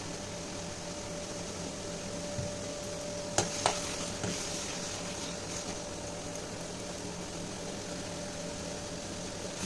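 Spices sizzle steadily in a pan over a lowered gas flame while broccoli paneer is cooked, a soft continuous frying hiss with a couple of sharp utensil clinks partway through.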